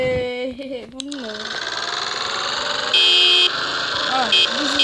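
A car horn in a video game honks in a few short toots amid steady engine and game noise, with a voice talking over parts of it.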